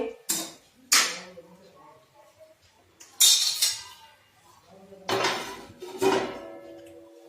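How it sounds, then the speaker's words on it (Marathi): A metal lid clanks down onto a wok of cauliflower, potato and pea curry over a low gas flame, with a few sharp ringing knocks and rattles, close by, between quieter pauses. "आता आपल्याला कढईवर झाकण ठेवायचं आहे।"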